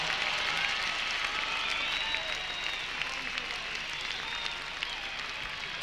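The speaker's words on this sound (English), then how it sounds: "Give him a round of applause for John." An ice hockey crowd at a Manchester Storm season event applauds continuously, a dense steady clatter of many hands clapping at close range, with a few cheers and whistles mixed in.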